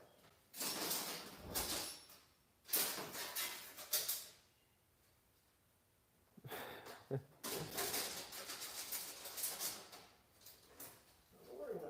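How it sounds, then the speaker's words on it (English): A big shop door is hauled open in bursts of loud rattling and rumbling separated by quieter pauses, with people talking nearby in a workshop. "We'll stand right here so we can open up the big door there."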